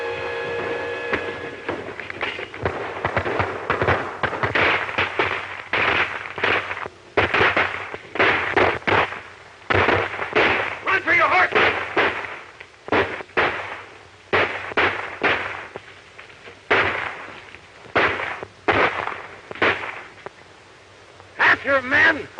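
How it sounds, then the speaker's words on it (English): In a 1941 western film shootout, rapid gunshots crack one after another in dense, uneven volleys. The firing is loud and close and continues for about twenty seconds, with voices mixed in. "We'll have to shoot our way out."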